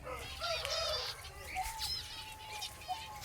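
Birds in an aviary with newly hatched chicks keep up overlapping cooing and chirping, a busy mix of calls with some wing flutters, close and continuous.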